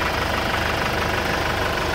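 A Kia Sorento's 2.5-litre four-cylinder engine idles steadily up close, a dense, even rumble with a faint ticking texture and no voices.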